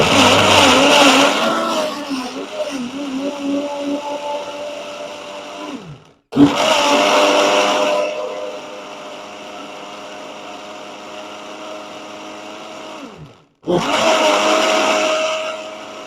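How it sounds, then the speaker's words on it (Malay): A blender whirs loudly in three long bursts while blending kimchi ingredients, each steady grinding run separated by brief stops, close by with no voices. "Kita akan blend sehingga sebati."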